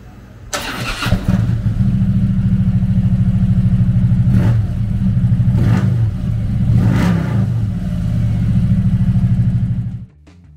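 A 2013 Harley-Davidson Street Glide FLHX with a 103 cubic inch V-twin starts up and runs with a loud, steady low rumble, blipped by three short revs before it cuts off at the end.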